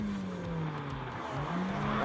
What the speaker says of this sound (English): He's on the rev limiter.